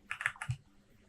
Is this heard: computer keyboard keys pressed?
yes